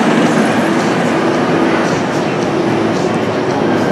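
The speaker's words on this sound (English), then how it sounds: "Standing coaster. this is a fun ride." A standing roller coaster train runs along its track at Six Flags Great Adventure in Jackson, New Jersey, giving a loud, steady roar with a rumbling rattle that stays even and close throughout, with no talk.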